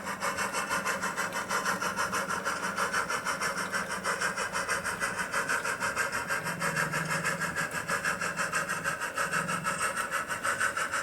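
A model steam locomotive without traction tyres grinds steadily up a ramp, a continuous rasping, whirring mechanical drone with rhythmic chuffing texture throughout, close and fairly loud.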